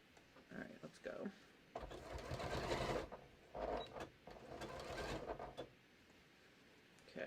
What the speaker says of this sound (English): let me start back over here and see if I can actually sew it together this time